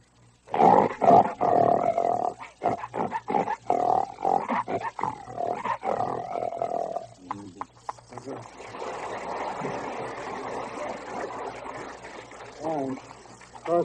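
A voice imitates a lion's roar, a series of loud, rough, growling bursts with throaty grunts, followed by a softer, breathy rumbling tail, performed live on an old-time 1940s–50s radio programme.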